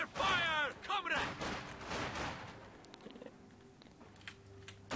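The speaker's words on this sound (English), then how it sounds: "Under fire, comrade!" Gunfire in a Company of Heroes 2 video game battle, a 4v4 match against hard AI: a dense burst of rapid shots up front, then scattered sharp cracks and distant reports over a low rumble, with game voices mixed in.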